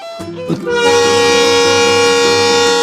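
The 16850 Rameshwaram–Tiruchchirappalli Express, near Pamban Bridge, sounds a loud, sustained, chord-like horn after a few brief knocks, holding steady and close to the end.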